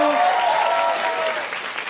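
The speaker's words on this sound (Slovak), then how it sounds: "Ukrajina, veľký potlesk pre Ukrajinu." Sustained applause from a conference audience fills the clip, steady and fairly loud, with a harmonic voice tail at the start that fades into the clapping.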